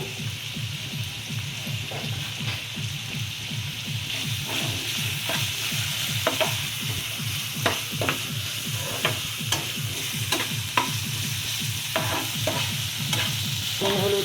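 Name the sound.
stirring potato and egg mixture with salt and turmeric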